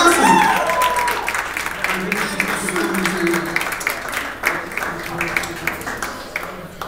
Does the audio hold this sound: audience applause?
yes